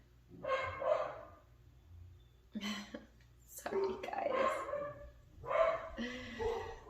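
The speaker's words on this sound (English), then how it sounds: "Dogs." Several pet dogs bark indoors in short bursts and a quick double bark, fairly close and loud, interrupting a person talking at home.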